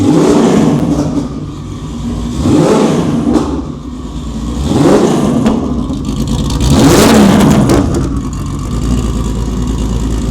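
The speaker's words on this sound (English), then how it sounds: "The sound of it with that hood exit is lumpy too. Proper sounds like it's cammed." A cammed 3.6-litre big-turbo Cupra hot hatch revs outside a workshop, three or four sharp rises in engine pitch separated by a lumpy, loping idle, loud and close with no talk.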